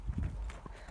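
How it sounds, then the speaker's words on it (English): A horse being ridden and schooled forward in a bridle clip-clops at a walk, with several distinct hoof strikes close by on firm ground. "So I'm pushing this horse forward, over top of that bridle."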